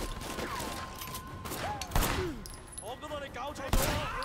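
Gunfire in the video game Sleeping Dogs: a few sharp shots crack out at intervals over a busy background, with someone talking in between.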